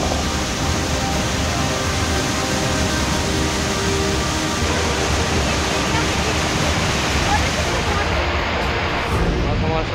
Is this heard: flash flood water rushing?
yes